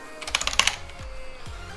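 A password is typed on a computer keyboard during an operating system install in VirtualBox: a quick run of about half a dozen crisp, close key clicks, followed by a couple of soft low thumps.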